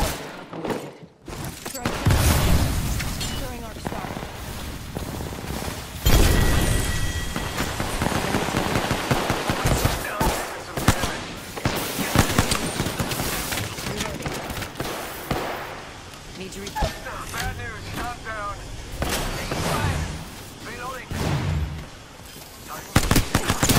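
Sustained gunfire in the Apex Legends shooter on Kings Canyon at night, dense overlapping volleys and bursts lasting throughout with brief lulls, loud and close, while players talk over the fight.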